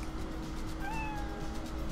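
In the video game 100ft Robot Golf, a cat lets out a single soft meow over a steady background of game noise, sounding faint and fairly distant.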